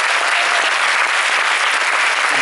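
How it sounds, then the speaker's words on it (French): A cinema audience at the Cinémathèque française applauds a Demi Moore tribute, producing a loud, continuous wash of clapping from many hands that stays even throughout. "applaudissez-le"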